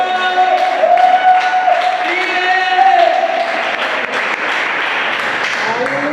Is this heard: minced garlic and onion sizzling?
no